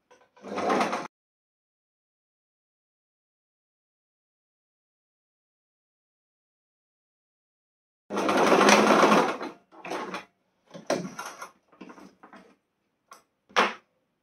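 A sewing machine stitches a fine, thin-fabric hem in close, loud bursts: one short run, a long silence, then a longer run followed by several brief stop-start stitches.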